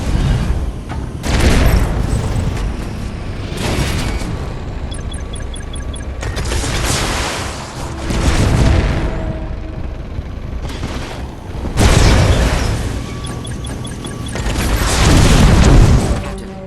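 Missiles are shot down in the VR game Archangel and burst in heavy, rumbling booms. The blasts come in repeated waves every few seconds, with continuous mechanical noise and gunfire underneath.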